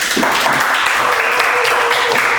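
Applause from an audience at a copywriting lecture in an Indonesian polytechnic classroom, a dense, steady patter of many hands clapping close by, loud and continuous throughout with no voices on top.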